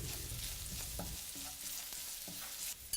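Onions sautéing in a pan with salt, turmeric powder, black pepper and meat masala for chicken fried rice give a steady close sizzle, broken by a few scraping stirs of a spoon.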